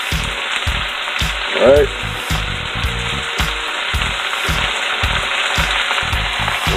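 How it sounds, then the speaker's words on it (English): Steady sizzling and crackling of cabbage frying in a pan with vinegar just added, loud and continuous, with a brief spoken word and some rhythmic clatter underneath. "I'm gonna add a little bit of vinegar to it"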